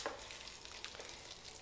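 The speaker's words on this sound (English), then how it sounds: "Straight into the pan. And that is gonna sizzle for 3 minutes" Crab cake sizzling in a hot frying pan, giving off a steady, close crackling hiss that holds evenly for the whole short stretch, with no talking.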